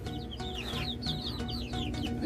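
A giant-breed chicken clucks in a run of short, repeated calls, close and fairly loud over a steady low background hum, with no talk.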